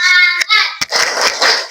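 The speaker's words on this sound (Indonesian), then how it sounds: "tepuk tangan dulu untuk kelompok 1" Classroom applause from students for the first group: a voice comes first, then a couple of sharp separate claps, and then a burst of close, scattered clapping from many hands.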